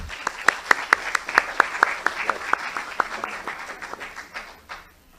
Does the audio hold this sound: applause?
yes